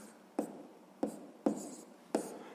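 Pen or pencil strokes on paper while working out a sixth-grade math exercise, four short scratchy marks spaced roughly half a second apart, close and fairly quiet with no talk.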